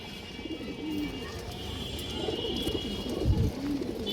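Pigeons of fancy colored breeds, including China khaki and silver khaki, coo softly in a coop, with a few low, rolling coos up close over a noisy background.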